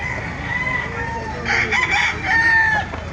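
A rooster crows loudly and close by at a gamefowl market, one drawn-out call with other birds and faint background voices around it.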